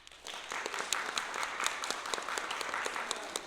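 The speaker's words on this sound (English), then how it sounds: "And how about an applause for Spooks McGee?" Audience applause at a small event, steady scattered clapping from a modest crowd throughout, with individual sharp claps standing out above the wash at moderate loudness.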